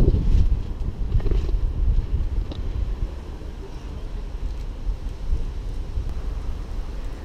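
Steady wind gusts rush across the microphone in an urban vegetable garden near Paris, a low continuous roar with rumbling buffeting that swells and eases throughout.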